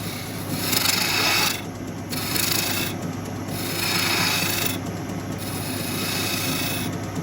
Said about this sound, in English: I'm going to just do a couple of planing cuts to get rid of that